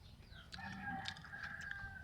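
A rooster crows nearby along a tree-lined roadside, one drawn-out call rising and holding for about two seconds, fairly quiet and heard on its own.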